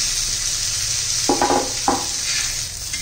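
Pieces of raw mango sizzle with onion in a hot pan, a steady frying hiss broken by a few short stirring scrapes, close and loud, with nobody speaking.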